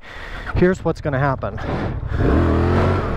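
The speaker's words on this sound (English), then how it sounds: "look, that's full throttle, and I'm just not going forward" A Honda Transalp 750 motorcycle engine is held at full throttle with traction control on, a rising revving drone that swells in the second half after someone speaks over the start.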